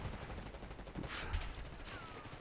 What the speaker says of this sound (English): He point blank shot me with a sniper.